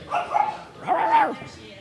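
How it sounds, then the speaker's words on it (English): A small dog yips and barks in two quick bursts, close and high-pitched, with a moment of quiet between. "She's running around barking."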